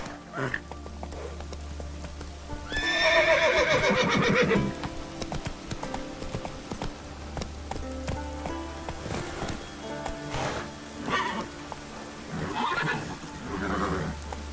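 Roach, the horse in The Witcher 3, gallops with a steady, close clip-clop of hooves and lets out a loud whinny early on, while a man urges it on with short spoken calls.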